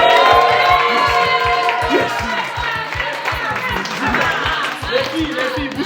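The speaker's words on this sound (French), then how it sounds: "Un tonnerre d'applaudissements pour le sponsor La Viche, s'il vous plaît." An audience at a live stage show claps and cheers for a sponsor, a sustained crowd roar with whoops and shouts mixed over rhythmic thumping music.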